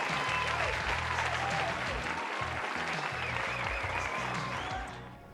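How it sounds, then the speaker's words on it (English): Enthusiastic applause from an audience, a dense clapping crowd sustained for several seconds before tapering off at the end. "let's give a great round of applause to the supporting cast of today's episode."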